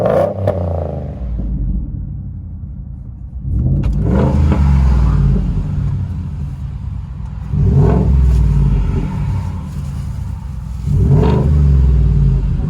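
A Ford F-150 5.0L V8 with Dynomax Race Bullet, dual tips and muffler and resonator delete rumbles at idle, then revs hard three times in evenly spaced bursts, each deep roar swelling and settling back to a throaty burble.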